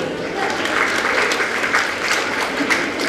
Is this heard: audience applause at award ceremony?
yes